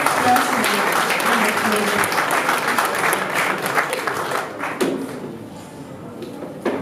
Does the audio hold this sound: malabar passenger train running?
no